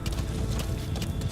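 Hoofbeats of D-Horse, the horse ridden in Metal Gear Solid V: The Phantom Pain, sound as a quick, steady clip-clop of galloping hooves over a rumbling background, with no talking.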